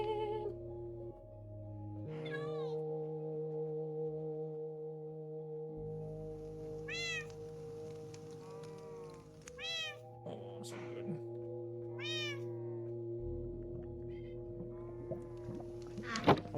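Cats meowing and chirping inside Minecraft, several short rising calls spread through the clip over steady game music and ambient tones, with a brief comment spoken over it.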